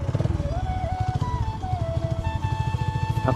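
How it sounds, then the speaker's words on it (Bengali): A motorcycle engine idles close by with a steady, rapid throbbing pulse after starting, while a higher whining tone rises and wavers above it. "এখন বাইকটা স্টার্ট দিলাম"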